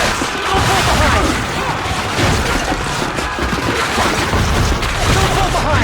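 Artillery explosions and gunfire in the Call of Duty: Finest Hour battle game, with dense booms and crashes rumbling continuously under shouted voices.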